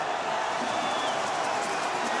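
A large basketball arena crowd in Dakar roars after a dunk in a BAL 2023 game between AS Douanes and US Monastir, a steady loud wash of cheering that holds without letup.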